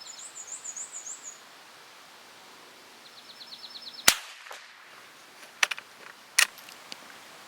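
Cooey Model 78 .22 rifle firing CCI subsonic hollow points at a 100-yard range: a few sharp, fairly quiet cracks spaced apart, with faint birdsong and outdoor background before them.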